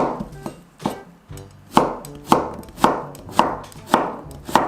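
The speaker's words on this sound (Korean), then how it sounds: "대파 한 뿌리 썰었어요." A knife chops a green onion (scallion) on a board in a home kitchen, with about eight crisp, evenly spaced strikes heard up close and no talking.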